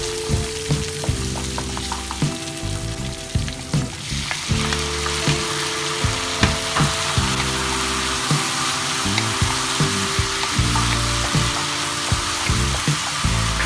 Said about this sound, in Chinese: 然后我们就倒入您刚才炒好的这个鸡丁